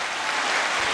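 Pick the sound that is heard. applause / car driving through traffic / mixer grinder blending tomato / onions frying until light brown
applause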